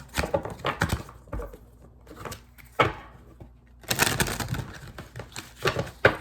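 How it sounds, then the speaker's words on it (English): Tarot cards being shuffled up close in a series of soft, crisp bursts and riffles, with short gaps and a longer flurry near the end. "let me go ahead and shuffle to make sure that the energies are mixed up"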